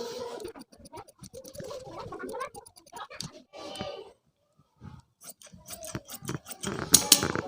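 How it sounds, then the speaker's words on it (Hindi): Scissors crunch through choli blouse fabric in a series of close, crisp snips and rustles, with pauses between cuts and a louder burst of cutting at the end. "अब इसको हम कटिंग कर देते हैं।"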